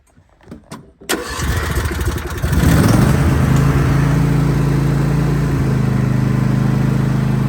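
A few quiet knocks, then a John Deere S130 riding lawn mower engine cranks and catches at about one second, settling into a loud, steady idle with a low droning hum.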